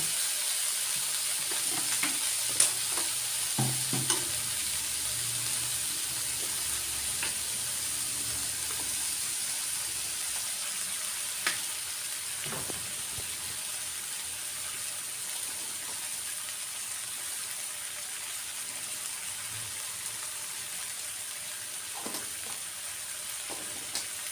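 Chicken with red curry paste stir-fries in a hot pan, a constant bright sizzle with occasional scrapes and clinks of a spatula stirring, steady and close throughout.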